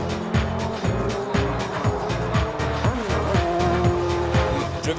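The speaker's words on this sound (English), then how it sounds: "seemed to enjoy driving a DTM machine" A DTM touring race car from the 2010 season roars loudly and continuously, with the engine revving in rhythmic surges as gears change and tires squeal briefly.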